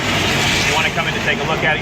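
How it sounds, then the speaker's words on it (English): A steady, broad roar of a plane passing low overhead as it lands at Fort Lauderdale Airport, loud and continuous, with someone talking over it. "which you can hear the plane landing right now."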